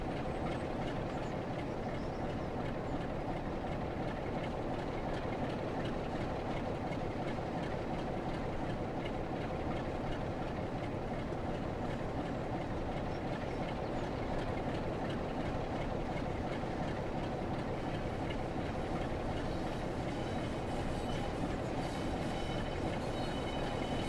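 Class 66 freight train rolling steadily along the West Coast Main Line over Shap in Train Sim World, a continuous dense rumble of engine and wagons with faint clickety-clack, no voices.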